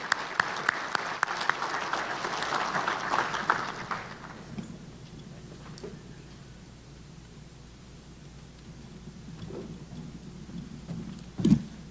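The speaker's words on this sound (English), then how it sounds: "Let's give all of these new members one more round of applause." Applause from a Chamber of Commerce monthly luncheon crowd welcoming new members fills the first four seconds as a dense wash of clapping, then fades into quiet room noise with a few scattered knocks.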